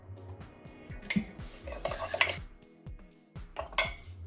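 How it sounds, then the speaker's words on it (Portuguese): Fork whisking egg and cake batter inside a large mug for a coconut mug cake, producing quick, uneven clinks and scrapes of metal against ceramic, close and fairly quiet, with no speech. "misturar bem com um garfo"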